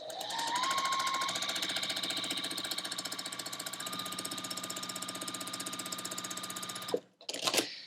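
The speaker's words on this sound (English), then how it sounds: "we're going to take this to the sewing machine, and we're going to stitch exactly on or immediately next to" A sewing machine runs steadily for about seven seconds, stitching quilt block fabric along a drawn line with a fast, even whir, then stops abruptly before a short final burst.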